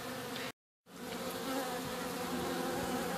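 Honeybees swarm outside their hive during a trap-out in Mulberry, Florida, a dense continuous buzzing hum close by, broken only by a brief silent gap.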